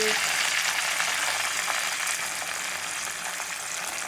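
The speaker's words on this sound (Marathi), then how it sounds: "त्याच्यानंतर टाकूत आपण शेंगदाणे कढीपत्ता हिरवी मिरची लाल मिरची" Peanuts, curry leaves and green and red chillies sizzle in hot oil, a loud, dense, continuous hiss of frying that eases only slightly after the first seconds.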